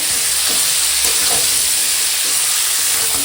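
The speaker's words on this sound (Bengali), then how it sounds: "এখন মাংসটা শুধু কষাবো" Chicken neck and liver stir-fried in a pan with tomato, giving a loud continuous sizzle with the occasional scrape and stir of a spatula, and no voices.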